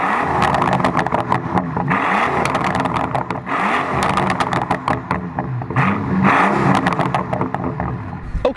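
Mercedes SL65 AMG Black Series V12 engine revving hard, a loud, continuous roar with repeated rises and falls in pitch, close by and unbroken for the whole stretch.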